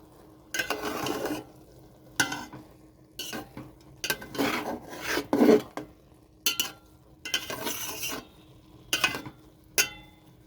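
Rice for sweet pulao stirred in a pot, a series of short scraping, clattering bursts of spoon against metal in an irregular rhythm, close and fairly loud, separated by quiet pauses.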